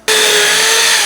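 Power drill starting abruptly and running steadily at high speed while drilling into wooden stair battens, loud and close.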